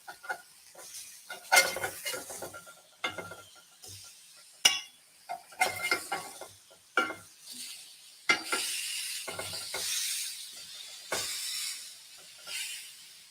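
Pineapple slices are flipped in a hot oiled pan, heard as soft intermittent clinks and scrapes of a utensil against the pan over a faint sizzling hiss, fairly quiet and close.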